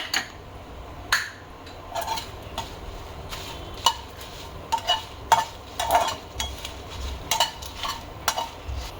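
Whole spices and crushed bay leaf are stirred in a pan over low heat for a gravy masala, with a soft dry sizzle under repeated clinks and scrapes of a spoon against the metal.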